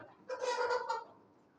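A sick desi hen, weakened by cold weather, gives one short, nasal clucking call of several quick pulses, close and fairly quiet, with no talking.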